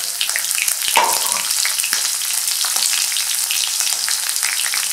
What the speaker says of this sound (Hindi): अब इसमें हम राई डालते हैं। राई की आवाज़ आ रही तड़कने की।